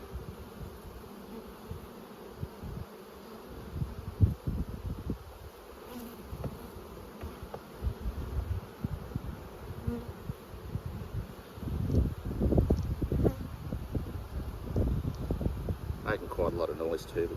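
Honeybees in a queenless hive drone in a steady buzz that swells louder toward the end, heard close with gusts of wind against the microphone.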